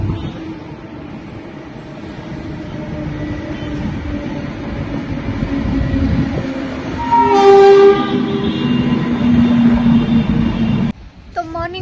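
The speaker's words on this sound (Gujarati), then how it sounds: "સવારની ટ્રેન જોઈએ આપણે" A morning train passes near a rooftop at a hill station, a loud rumbling roll building as it nears, then a long blaring two-tone horn, with voices talking faintly in the background.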